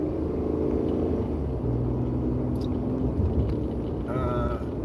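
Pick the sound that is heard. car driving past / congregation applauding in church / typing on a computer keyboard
car driving past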